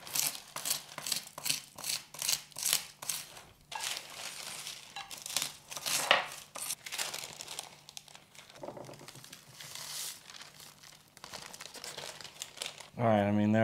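Baking paper crinkling and rustling while crusted salt from evaporated sea water is scraped off it, in repeated close bursts of crackly rustle, with someone talking over parts of it.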